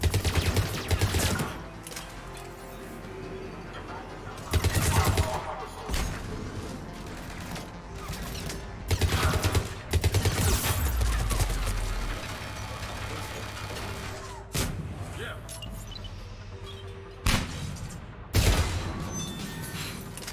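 Bursts of gunfire with armor-piercing ammo in the Mass Effect 3 video game, loud repeated volleys separated by short pauses, over a steady mechanical hum and faint speech.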